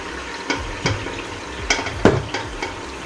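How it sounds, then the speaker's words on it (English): Tomato puree goes into an oiled pot frying for Nigerian party jollof rice, and a spoon scrapes through it in several separate strokes over a low, steady sizzle, with no voices. "So I'll go ahead and add in the tomato puree."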